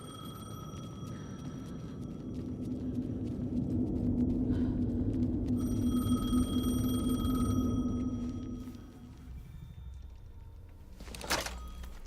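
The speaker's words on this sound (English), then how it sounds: "the phone again." Telephone ringing in the video game Alan Wake 2, a bright electronic ring that starts, pauses and resumes over a low rumbling ambience, then fades out before a short thud near the end.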